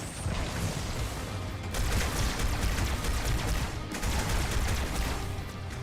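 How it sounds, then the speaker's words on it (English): Video game gunfire from enemies shooting at the player: dense bursts of rapid automatic shots and heavy impacts, loud and sustained, with brief lulls between volleys. "As they all shoot at me."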